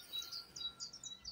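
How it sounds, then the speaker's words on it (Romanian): Birds chirp and sing beneath a forest, quick repeated high tweets in a steady run, faint and distant with no voices. "pe filmare cât de frumos cântă păsările"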